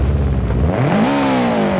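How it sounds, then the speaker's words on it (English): A Subaru Impreza WRX STI race car with a 2.5 litre engine and sequential gearbox, driven in BeamNG, revs loudly up close, its engine tone climbing sharply and then holding high. "listen to this engine noise"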